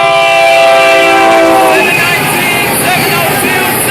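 Florida East Coast freight train led by three SD40 locomotives rolls by loudly and close, a sustained horn blast over the first two seconds giving way to a steady rumble and roar of passing cars.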